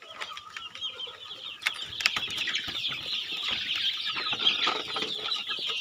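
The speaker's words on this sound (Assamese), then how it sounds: "তো ইয়াৰ এইকেইটা মুৰ্গী আছে বৰ্তমান।" Local desi chickens, about 50 days old, in a farm shed: soft, overlapping high clucks and chirps that keep up throughout, with occasional wing flaps and scuffling, close but fairly quiet.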